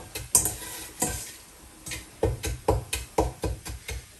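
A spoon stirs sugar caramelizing with apples and onions in a pot, giving repeated scraping strokes and knocks against the pot at a steady rhythm over a soft sizzle, close and clear.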